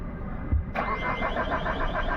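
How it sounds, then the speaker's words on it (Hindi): An MG Hector with a faulty fuel pump cranks on its starter, a steady rhythmic churning that begins abruptly and keeps turning for about a second and a half without the engine catching. "सेल मारिए एक बार, देखते हैं मोटर चल रही कि नहीं चल रही।"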